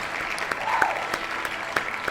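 A crowd applause sound effect at a tournament, a soft continuous patter of clapping with a few sharper claps standing out, fairly quiet and unchanging over a couple of seconds.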